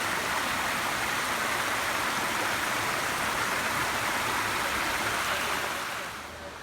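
Creek water flowing in Cades Cove in the Smoky Mountains: a constant, broad rushing wash, steady and fairly close, easing slightly at the very end.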